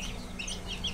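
Aseel chicks, red and black in colour with parrot beaks, cheep in a brief burst of high, overlapping peeps close by.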